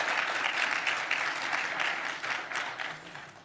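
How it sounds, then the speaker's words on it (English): An audience at a symposium panel discussion applauds steadily, a dense crowd of clapping hands that stays loud for a few seconds before starting to fade. "please give a round of applause"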